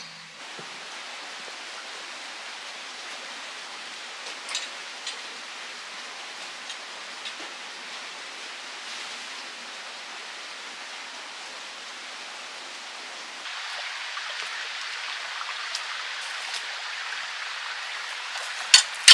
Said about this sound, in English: I have to cross a river over here.